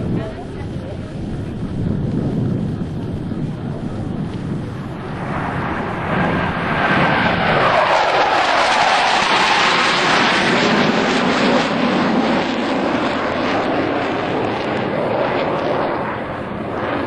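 US Navy Blue Angels jets at the 2003 New York International Airshow roar past in tight formation, a broad rushing engine noise swelling through the middle and lingering loud to the end, with wind buffeting and an announcer talking throughout.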